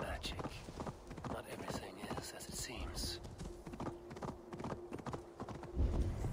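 A horse gallops in the video game Assassin's Creed Valhalla, its hooves pounding in a rapid, continuous rhythm while someone talks over it throughout.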